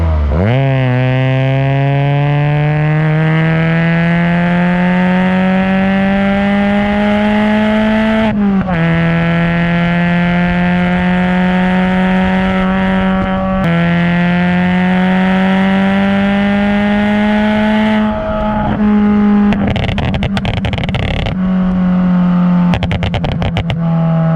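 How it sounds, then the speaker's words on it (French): Peugeot 206 RC with stock exhaust line and a rear resonator revs up and holds high rpm, a loud, sustained engine note that swells and steps between throttle blips, close up and with no talk. "Juste le pot d'échappement."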